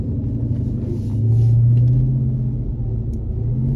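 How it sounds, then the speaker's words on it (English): A supercharged Dodge Hellcat accelerates with a steady low rumble and a faint supercharger whine riding above it, swelling slightly in the middle before holding steady. "You hear that supercharger whine?"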